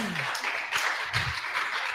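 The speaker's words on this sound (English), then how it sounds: "Could you clap your hands for him" An audience claps hands in quick, dense applause, close and moderately loud, with a voice briefly heard over it.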